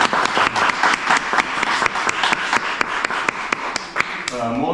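Audience applause at an exhibition opening: a steady patter of many hands clapping close by for several seconds, fading as a voice begins to speak at the end.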